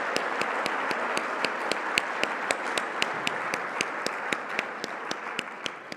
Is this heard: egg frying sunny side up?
no